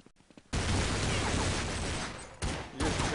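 Rapid bursts of close, loud gunfire from a competitive Counter-Strike match, USP pistol shots mixed with other weapons in a dense volley, pausing briefly before another burst.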